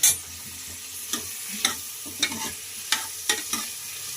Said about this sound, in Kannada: ಮೀಡಿಯಂ ಫ್ಲೇಮಲ್ಲೇ ಈ ರೀತಿ ಕೆಂಪು ಬಣ್ಣಕ್ಕೆ ಈರುಳ್ಳಿನ ಫ್ರೈ ಮಾಡ್ಕೊಂಡಿದ್ದೀವಿ